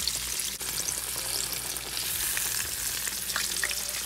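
Breaded green tomato slices fry in a pan of hot oil, a dense, continuous crackling sizzle held close and loud, with a faint tap near the start and no talking.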